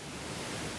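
Steady pink noise sweeps across the stereo field from left to right, a soft, even, broadband hiss that holds constant throughout and plays alone.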